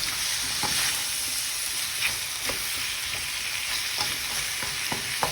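Zucchini and yellow squash sautéing in a pan for a sweet chili shrimp stir fry, a close, steady sizzle with a series of spatula scrapes and taps at irregular intervals, no voices.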